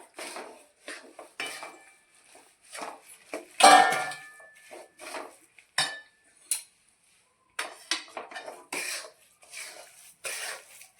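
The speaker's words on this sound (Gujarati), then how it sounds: "હવે આપણે આ મિશ્રણ ઉમેરી દઈશું અને તેને પણ આવી રીતે મિક્સ કરી લઈશું" A spoon repeatedly scraping and clinking in a pan as gundar pak mixture is worked into melted jaggery, irregular close metallic knocks separated by short silences, with a cough partway through.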